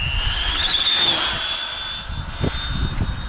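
An ARRMA Limitless RC car on a 4S battery screams at full speed, its motor a loud, high-pitched whine that holds steady before fading as the car streaks away.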